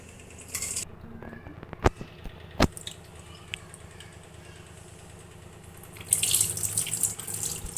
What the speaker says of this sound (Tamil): இதான் 3rd டைம் வாஷ் பண்ணுறது